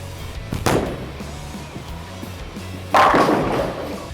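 A Storm Summit bowling ball rolls down a lane, with a thud at release followed by a low rumble, then a sharp, loud crash of scattering pins about two seconds later.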